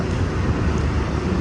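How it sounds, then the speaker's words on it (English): Steady wind buffets the microphone near a docked cruise ship in port, a constant low roar with no voices. "It's pretty windy."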